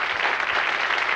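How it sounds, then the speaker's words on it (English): A television game-show studio audience in 1980 applauds the contestants, a brief wash of steady clapping at moderate level with no voices. "will you give them a round of applause?"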